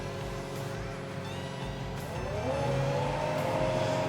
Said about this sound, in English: Now that we are in the machine, now we will start it and rev it up to 2000 RPM.